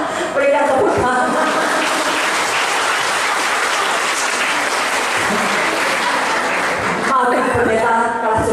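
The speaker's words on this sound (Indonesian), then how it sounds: "Berikan tepuk tangan." A church congregation at a revival service in Lubuk Linggau, South Sumatra, breaks into loud, sustained applause, many hands clapping densely, with voices rising briefly at the start and again near the end.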